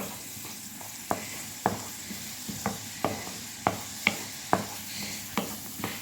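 Onions browning in butter and cooking oil in a pan, with a steady close sizzle and a dozen sharp stirring scrapes and clinks at an uneven rhythm.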